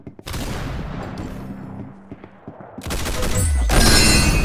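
Gunfire from the Roblox shooter Arsenal comes as loud bursts of rapid shots, with a heavy barrage building toward the end.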